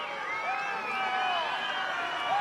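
Home rugby crowd cheering for Buller at a Meads Cup final in Westport, a distant wash of voices with rising whoops and shouts, steady and moderately loud.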